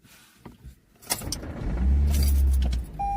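A car crashing in a video game: a rising engine rush ending in a loud, sustained low rumbling impact for about a second, followed by a short electronic tone, with no talk.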